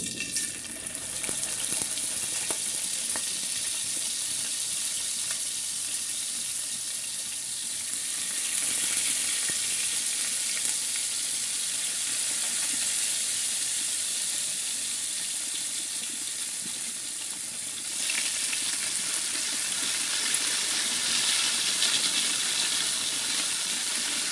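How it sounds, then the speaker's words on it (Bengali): Pomfret fish fries in hot oil with a loud, steady sizzle that keeps going, its hiss swelling slightly partway through. "গরম হয়ে গেলে এবার একটি একটি করে মাছ দিয়ে দেবো"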